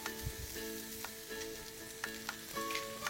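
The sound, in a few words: stirring turmeric powder into frying lentil base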